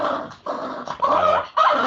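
A pet dog barks indoors in a run of loud, close yelps and barks with short pauses between them, and no one talks over it.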